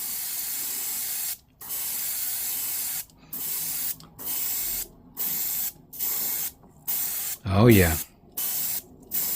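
A Gaahleri Mobius-SP siphon-feed airbrush sprays primer in a series of loud, close hissing bursts of roughly a second each, broken by short pauses, with one brief spoken exclamation.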